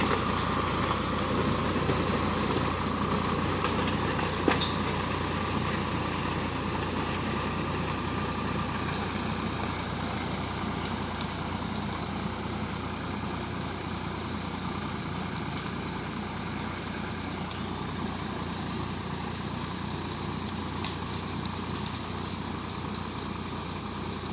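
A Swaraj 744 FE tractor engine pulling a rotator through rice-field mud: a continuous mid-pitched diesel drone that stays steady and close throughout, with a single brief knock early on.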